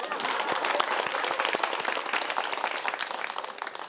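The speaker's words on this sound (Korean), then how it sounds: "박수" A lecture audience bursts into dense, lively applause, many hands clapping loudly and continuously throughout, close and full, with a faint murmur of voices mixed in.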